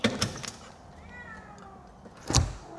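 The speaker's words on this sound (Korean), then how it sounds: "길냥이가 쳐들어와서 자리 잡았습니다." A stray cat gives a single soft, drawn-out meow inside a car shop. A few knocks and thumps from nearby handling come before and after it.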